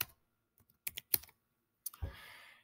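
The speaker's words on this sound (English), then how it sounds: "And I type that in" Several sparse, quiet keystrokes click on a computer keyboard, followed by a firmer final key press with a short rattle, in an otherwise silent room.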